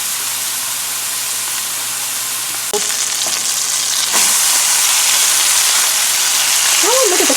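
Very thin hamburger patties fry for a patty melt, a steady loud sizzle that swells as the meat is moved, with a brief clatter midway and faint sounds at the end.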